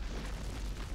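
A deep, rumbling explosion from the Call of Duty: Modern Warfare 3 game, with heavy low-end boom filling the whole second at steady loudness and no talk over it.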